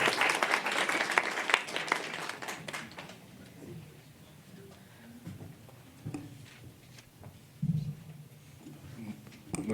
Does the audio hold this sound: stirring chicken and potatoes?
no